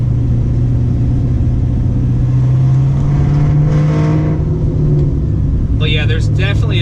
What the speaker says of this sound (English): there's definitely a very fast build up on boost when you lay into the throttle